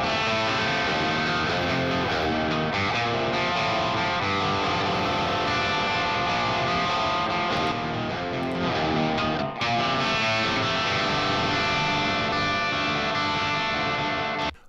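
A full music mix played through the STL ControlHub plugin signal chain, dense, loud and bright with heavy distorted guitar, running continuously with a brief dip near the ten-second mark.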